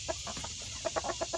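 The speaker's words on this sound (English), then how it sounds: "He's the most beautiful rooster I've ever seen in my life." A full-grown rooster in a backyard pen gives a short series of clipped clucks, a few early on and a tighter cluster near the end, heard fairly close with no talking.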